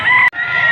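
A rooster crows loud and close at a chicken market in Padre Garcia, Batangas, its harsh call cut by a split-second gap before it carries on.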